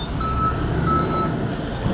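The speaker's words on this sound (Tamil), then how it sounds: "கண்டெய்னர் அழகாக தூக்கிட்டு போய் எடுத்துகிட்டு போய் வைக்குது" A container handler truck reversing in a container yard gives off steady electronic backup beeps over a constant low engine rumble. The beeping sounds moderately close.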